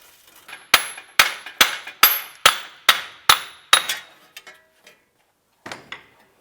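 An air chisel hammers a wheel hub free from the steering knuckle of a 2006-2011 Cadillac DTS during a front bearing and hub replacement, with about eight loud, evenly spaced metallic strikes, a few lighter taps, then a brief clatter.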